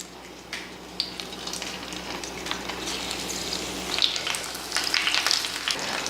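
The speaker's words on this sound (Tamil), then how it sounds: "இப்போ இது மேலே நம்ம பொதிச்சு வச்சுருக்க மீன் எடுத்து வச்சிடலாம்" Wrapped fish is laid into a little oil in a wide pan, setting off a steady crackling sizzle that grows louder and busier as it fries, close up and without talk.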